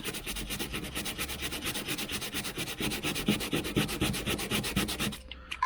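Steady rapid back-and-forth scratching of sandpaper rubbing a plastic car part on a Ford Fusion, close and even in rhythm, stopping abruptly near the end.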